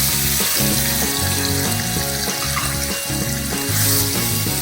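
Green masala paste frying in hot oil in a kadhai over low heat, a loud, continuous close sizzle with bubbling and a few stirring sounds.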